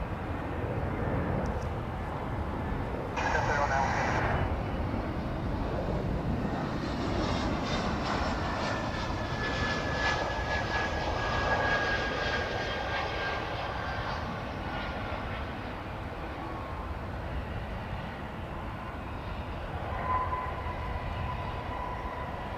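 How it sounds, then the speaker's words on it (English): American Airlines Airbus A321 landing at DFW airport, a sustained roar of jet engines building and then fading over about twenty seconds, heard at a distance without talk. "That's an A321 coming in from Tucson, flight 2193, American Airlines."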